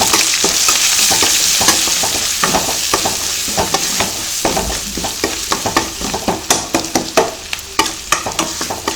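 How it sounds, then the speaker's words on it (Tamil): Spices, garlic, turmeric and sambar powder sautéing in a pan for a broad bean and potato stir-fry, with loud close sizzling and a run of quick rhythmic spatula scrapes that grows sharper toward the end. "எல்லாம் போட்டு நல்லா வதங்கிடுச்சு"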